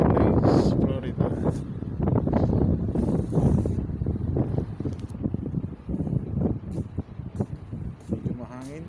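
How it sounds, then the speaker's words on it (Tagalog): Wind buffeting a microphone outdoors on the open deck 5 of a cruise ship at the pier in Fort Everglades, Florida, steady and loud, with someone talking over it throughout. "Medyo mahangin."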